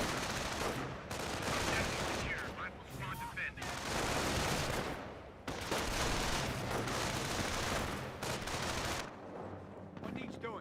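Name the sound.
rifle squad gunfire in video game Company of Heroes 1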